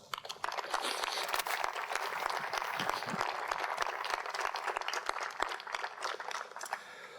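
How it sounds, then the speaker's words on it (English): Steady, moderately distant applause rises from the audience at the Mana O Ke Koa award ceremony for award recipients, with sharper individual claps standing out over the dense clapping. "Join me in a round of applause."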